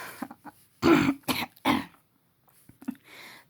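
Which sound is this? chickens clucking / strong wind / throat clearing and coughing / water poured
throat clearing and coughing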